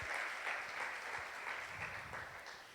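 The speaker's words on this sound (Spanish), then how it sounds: "Denle ese aplauso al Señor" A church congregation claps together in a dense, steady round of applause, close and continuous, with no voices over it.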